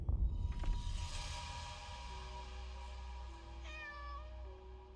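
A cat meows in the Layers of Fear video game, a drawn-out wavering cry heard fairly clearly over a low, dark ambient drone, with no talking.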